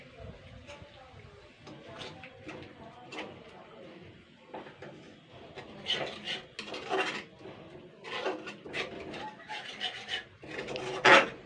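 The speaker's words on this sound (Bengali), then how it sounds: "জাস্ট এটাকে আমি 2 মিনিট নাড়াবো, বেশি কষানো যাবে না" Ginger, green chili and cumin paste stirred in a pan gives rhythmic scraping and rubbing of a spatula, growing louder and busier toward the end, with a faint voice speaking at times.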